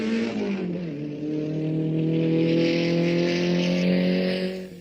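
A racing car at the 1965 Targa Florio roars through the Sicilian village of Collesano, its engine note climbing as it approaches, peaking loudly and then fading away as it passes.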